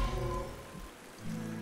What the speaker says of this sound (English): It's already raining. What was the rain spell again?